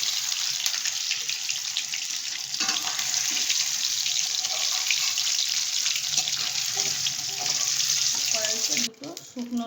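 Paneer frying in a pan gives a steady, bright hiss and sizzle for most of the time, close and fairly loud. It stops abruptly near the end.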